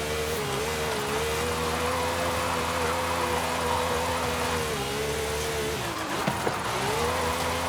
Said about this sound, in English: I keep on spinning the car on this turn